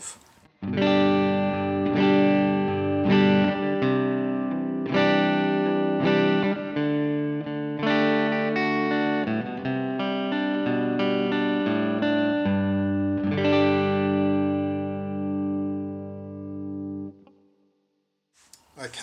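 Ringing clean chords from a Les Paul Junior-style electric guitar played on the neck pickup alone, a series of strums that sustains and then trails off into quiet.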